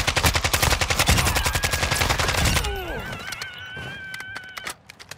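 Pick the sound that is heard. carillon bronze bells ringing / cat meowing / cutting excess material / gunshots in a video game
gunshots in a video game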